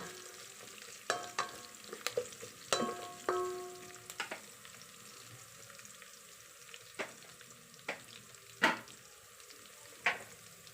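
Onion and garlic sauté in a pan for a pork and oyster sauce bean sprout stir-fry, a soft steady sizzle broken by several scraping stirs and clinks of a utensil, close by with no speech.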